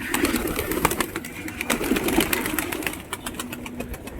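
Pigeons flutter and stir at a loft, with busy wing flaps and faint bird sounds repeating over a low background engine hum, close by and moderately loud.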